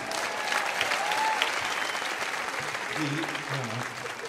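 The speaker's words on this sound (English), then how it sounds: "Big round of applause for Anthony Griffith." A crowd gives a big round of applause for comedian Anthony Griffith, a steady wash of many hands clapping that holds fairly evenly, with a faint voice surfacing near the end.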